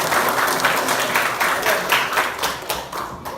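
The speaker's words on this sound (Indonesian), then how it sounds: "tepuk tangan dulu kita hari ini." A classroom group claps together at a teacher's urging during an Islamic religious education lesson, a dense, steady patter of many hands lasting a few seconds, fading slightly at the end.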